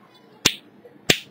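Two crisp finger snaps, spaced about half a second apart, trigger a snap-activated LED color-changing circuit on a workbench; close and sharp against near silence.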